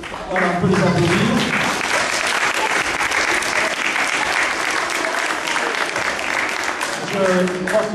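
An audience applauds pupils at a school award ceremony, dense sustained clapping from a crowd filling the room, with voices faintly audible underneath.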